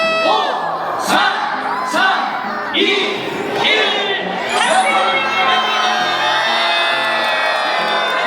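A large outdoor crowd in Korea erupts in loud cheering, whoops and shouts right after a New Year 2026 countdown, a dense, continuous roar of many voices close by.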